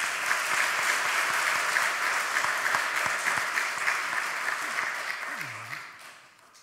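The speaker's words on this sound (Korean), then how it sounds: "한번 이렇게 박수로 이렇게 맞으세요." A church congregation at a Sunday worship service applauds steadily, the clapping holding even before tapering and fading out at the end, where a single voice briefly sounds.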